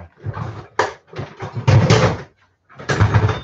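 A power supply drawer is handled in a workshop, giving loud, close clattering bursts of sliding and rummaging in uneven clusters, with a short quiet gap before a final rattle.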